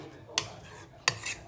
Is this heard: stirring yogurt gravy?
yes